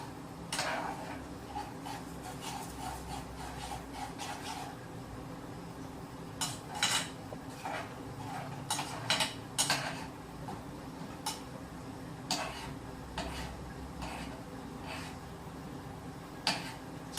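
A spoon stirs cream in a pan for a low-carb, gluten-free coconut torte, making faint, intermittent scrapes and light metallic clicks against the pan over a quiet background, with no voices.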